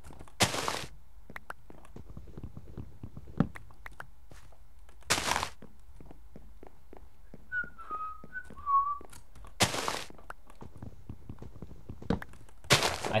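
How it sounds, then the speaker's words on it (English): A person whistles a short tune in a few brief melodic bursts, faint and fairly close, among sharp intermittent clicks and thumps from a game. "I think I learnt the basics of whistling."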